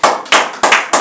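A church congregation claps in four sharp, evenly spaced bursts, close and loud, with no voices.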